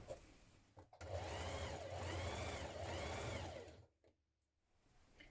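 A sewing machine runs a 1 cm seam on spring trousers, a steady close hum with a whirring motor note that builds, holds for about three seconds and winds down to quiet.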